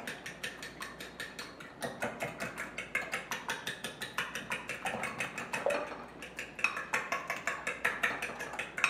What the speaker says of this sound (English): So just quickly beat your eggs.